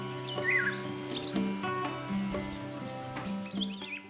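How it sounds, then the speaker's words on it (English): Chaffinch, goldfinch and winter wren calling in Portuguese woodland: several short, bright chirps and twittering trills scattered across a few seconds, fairly close, over a faint low hum. "There were chaffinch, goldfinch, and winter wrens all calling actively"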